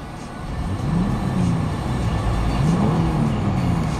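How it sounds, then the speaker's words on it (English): A 2007 Toyota 4Runner Limited 2WD with 170,000 miles revs up and settles back, two rising engine swells over a steady, close idle hum, with no voices. "Revs up nicely, idles smoothly, no warning lights on the dash."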